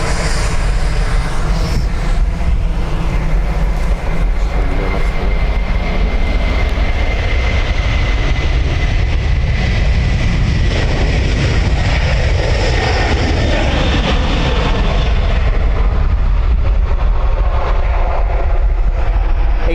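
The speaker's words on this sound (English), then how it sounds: "A330-300 off to Boston." An Airbus A330-300 departs Dublin Airport bound for Boston with a loud, sustained jet-engine roar that holds steady across the whole stretch, its pitch slowly shifting as the aircraft passes.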